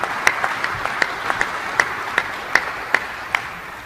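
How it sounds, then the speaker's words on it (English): A few people clap in a slow, sparse rhythm of distinct claps at a building dedication for a Buffalo film and TV production facility, with no speech over it. "a great big round of applause."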